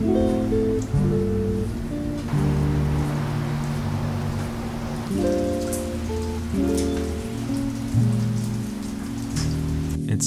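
Steady, close rain hisses throughout while a tonal melody plays underneath, its notes shifting every second or two.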